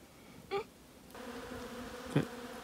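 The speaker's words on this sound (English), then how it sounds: "this tree is just full of bees. The whole thing is humming." Bees swarm in a tree at a campsite in Jordan, their steady droning hum rising and settling, with individual insects buzzing close past at moments.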